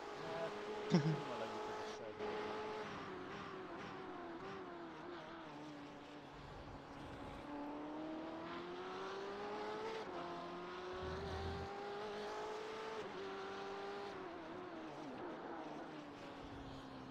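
A BMW race car engine at Daytona in the iRacing sim, a steady droning note rising and falling with gear changes, running continuously under a voice.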